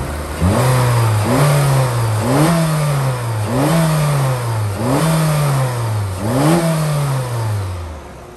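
A 2013 Honda Fit Sport engine held at higher RPM, revving up and easing back about six times in a steady rhythm, close and loud with no talk over it.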